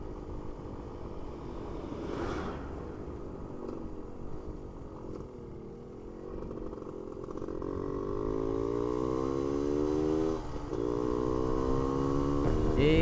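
A Suzuki RK Cool 110 motorcycle engine revs up and shifts through gears while riding, its tone climbing and dropping with each change, loud and close with steady road and wind noise underneath.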